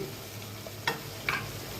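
Tempering spices with green chillies sizzle in hot oil in a pan while being stirred for temple-style pongal; a soft steady frying hiss carries two brief scraping clinks of the spoon, with no talking.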